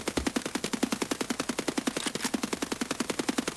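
Rapid automatic gunfire in the video game Escape From Tarkov, a loud unbroken burst of evenly spaced shots firing about eight per second for the full length, with no voices.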